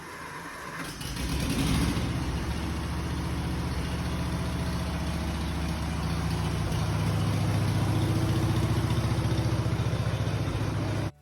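A John Deere 440 crawler's engine fires up and settles into a loud, steady close idle with a deep low rumble and a regular chugging pulse, running alone with no voices.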